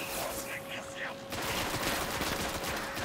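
In-game gunfire in Destiny rattles as a dense, continuous burst of rapid shots, loud and close, swelling midway through, with a voice briefly audible early on.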